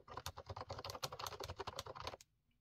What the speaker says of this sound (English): And then you can see when I start typing